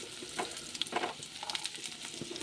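Vegetables for shukto, including carrot, sweet potato, drumstick, beans and cucumber, sizzle and crackle in a pan with oil, with soft stirring pops, close and fairly quiet.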